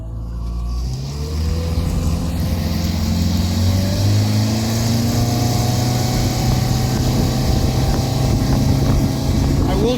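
A Fishrite hull boat powered by a new 60 hp outboard motor speeds across flat water, the engine note climbing steadily as it accelerates, loud and continuous with wind and water rush throughout.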